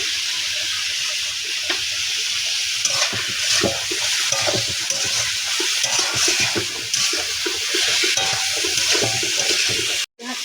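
Salted water with vegetables in a pot, giving off a steady loud hiss and bubbling that runs without a break until it cuts off abruptly near the end.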